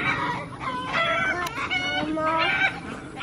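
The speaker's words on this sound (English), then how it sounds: "The chickens are so scared." Chickens frightened by a hawk cluck and squawk in agitated, overlapping bursts, close and fairly loud, with no talking.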